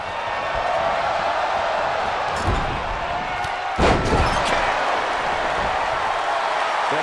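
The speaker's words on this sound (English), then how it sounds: "The sound of this crowd is deafening, and he's asking for more." Loud video game arena crowd from a WWE2K23 tag team wrestling match roars steadily throughout, with a brief impact slam midway and a louder surge of noise near the end, under commentary.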